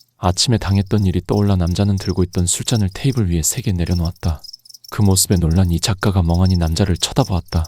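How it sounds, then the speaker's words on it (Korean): Crickets chirp steadily on an autumn night, a persistent high trilling that runs beneath continuous Korean narration. "이 작가의 잔을 채워주려는데 귀뚜라미 울음소리가 들려왔다"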